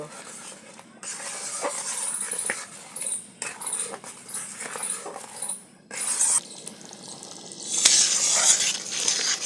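Peas and spices, including chilli powder, are stir-fried in oil in a pan. Close, uneven bursts of sizzling come and go with scraping stir strokes, growing louder toward the end.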